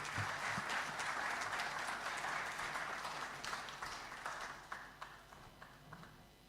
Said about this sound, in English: that clap is not a clap for the chairman of IGAD